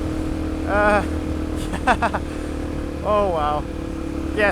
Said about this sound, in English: it's actually hard work talking whilst bike's so damn loud